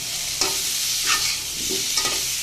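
Cumin seeds tempering in hot oil in a pan, with a steady sizzle broken by several stirring scrapes, close and moderately loud, with no talking.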